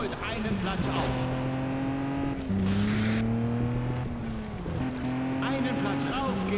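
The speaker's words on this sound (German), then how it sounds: "Wagen 5 gibt Vollgas und holt einen Platz auf." A race car in the racing video game Juiced 2 holds a loud, steady engine tone at full throttle, its pitch climbing and shifting with gear changes, while someone talks over it throughout.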